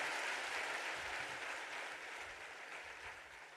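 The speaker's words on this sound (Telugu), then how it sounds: "గట్టిగా చప్పట్లు కొట్టి మహింపరుస్తారా" A congregation claps together at a fasting prayer meeting in church, a dense, steady applause that fades slightly over a few seconds.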